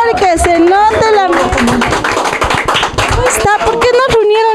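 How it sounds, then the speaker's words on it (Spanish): Audience applause at a press presentation for a veteran stage actress: a dense burst of clapping about two seconds long, with lively talk before and after it. "¡Ay, un aplauso, por favor!"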